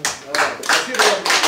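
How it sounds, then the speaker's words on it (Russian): An audience claps in quick rhythmic bursts, loud and close, in a short burst of applause at a live event. "Поэтому вы сейчас не хлопайте, мы вам похлопаем сейчас"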